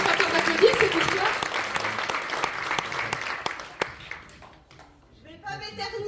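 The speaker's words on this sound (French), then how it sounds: "T'as pas peur d'applaudir, c'est pour toi." An audience claps after a show, with dense applause that gradually thins into scattered claps and fades out, and then a voice begins speaking.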